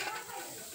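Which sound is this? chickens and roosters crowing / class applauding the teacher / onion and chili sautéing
onion and chili sautéing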